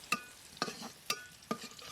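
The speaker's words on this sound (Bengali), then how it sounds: "ওই যে টমেটো যে ছিঁড়ে আনছি এটি ভাজি করবো আজকে।" Tomatoes fry in a pan while a utensil strikes and scrapes it four times in an even rhythm, each stroke a short metallic clack over a faint background.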